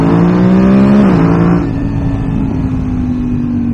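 A 2019 BMW F850 GS motorcycle engine revs hard with a rising tone, then drops back after a shift and keeps pulling steadily, loud and close with no talking.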